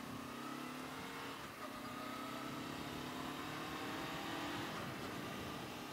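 A 2015 Honda CB500F motorcycle on the road, its mid-pitched engine droning steadily and rising slightly in pitch under acceleration, mixed with a constant rush of wind, with no talk.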